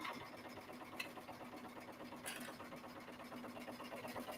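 A sewing machine runs with an unthreaded bobbin, a faint, steady mechanical whirring and rapid needle ticking that carries on unbroken throughout.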